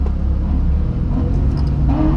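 Lamborghini accelerating hard from a rolling start, a loud, close engine roar with deep low rumble holding steady throughout, no voices.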